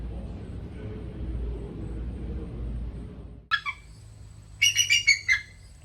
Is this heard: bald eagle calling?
yes